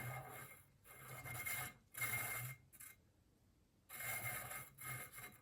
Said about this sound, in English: that is where this caliper starts to rub. So you'll hear it.